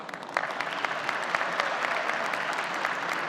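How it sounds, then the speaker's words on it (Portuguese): Steady audience applause at an academic law event in Lisbon, many hands clapping at once in an even, sustained wash, moderately distant. "Uma salva de palmas, por favor"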